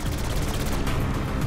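Dense, continuous gunfire from Saints Row IV: a loud, unbroken barrage of rapid shots filling the whole short stretch.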